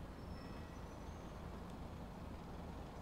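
Car arriving in GTA 5 Online, a faint, steady low engine and road rumble that stays even throughout, with no voices over it.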